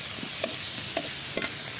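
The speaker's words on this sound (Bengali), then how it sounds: "আগে আমি মেয়ের জন্য চিংড়ি মাছটা ভুনা করে নিব" Shrimp being fried bhuna-style in a pan with onions, green chilies and spices, cooked outdoors in front of a house; a steady close sizzle runs throughout, broken by a few sharp stirring scrapes.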